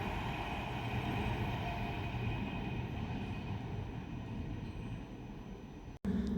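A Class 390 electric train, unit 390-049, passes at Tring on the West Coast Main Line with a continuous, even rumble and whine that holds at steady loudness before cutting off abruptly near the end.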